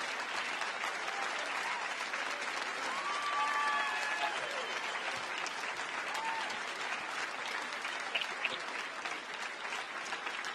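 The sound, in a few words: crowd applauding and laughing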